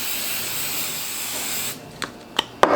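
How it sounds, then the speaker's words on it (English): Cooking spray gives a steady hissing spray lasting nearly two seconds onto Italian sausage pasta, then stops, followed by a few soft clicks and taps. "Now if you want to, you can spray it down again."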